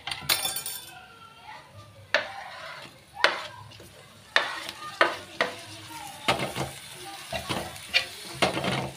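Tomatoes sauté with cumin and browned red onion in a pan, with a soft sizzle under irregular clinks and scrapes of a spoon against metal, close by, and a voice talking at moments.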